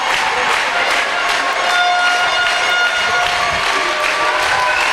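Prahecq supporters at a football cup final against Moncoutant cheer and applaud in a dense, steady roar of clapping and crowd noise that stays loud and continuous throughout, with no clear speech.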